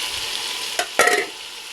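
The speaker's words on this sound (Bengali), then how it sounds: "এখন দিয়ে দিব সিদ্ধ করে রাখা কাঁঠালের বিচিগুলো।" Chopped onions and boiled jackfruit seeds fry in a pan, a steady close sizzle broken by a couple of short scraping stirs.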